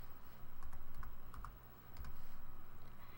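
Close, quiet typing on a computer keyboard produces a handful of separate key clicks in an uneven rhythm against a low steady hum, with no voice.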